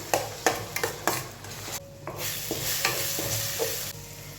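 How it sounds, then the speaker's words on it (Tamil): Ginger garlic paste sautéed in a pan for a fish curry, with steady frying sizzle and repeated scraping strokes of a spoon stirring against the pan, close and moderately loud, no talk. "இஞ்சி பூண்டு பேஸ்ட்டு எல்லாத்தையும் நல்லா வதக்கணும்"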